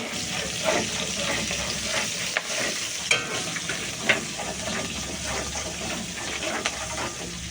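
Chopped onions sizzling and frying in a pan for Bengali katla kalia, a steady close sizzle with occasional stirring scrapes and clinks, no voices.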